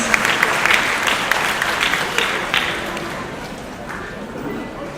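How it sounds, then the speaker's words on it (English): Audience applause at a charity award ceremony, a dense crowd clapping with a few sharp individual claps standing out, loud at first and gradually thinning and softening toward the end. "Please a big round of applause for these people, please"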